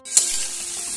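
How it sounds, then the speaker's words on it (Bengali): Grated spices sizzle and fry in a pan as they are stirred, a brief bright hiss starting with a sharp scrape, close and alone. "আবারও ভালোভাবে নাড়াচাড়া করে নিচ্ছি।"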